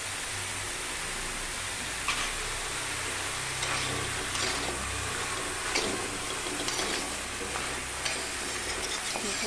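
Onion and mixed vegetables fry in a pan while being stirred, a steady close sizzle with occasional scraping strokes from the spoon.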